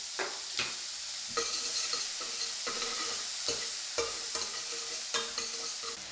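Onions sauté in a pan as the start of a braising liquid. A continuous close sizzle is broken by a regular series of stirring scrapes about once a second, and no voices are heard.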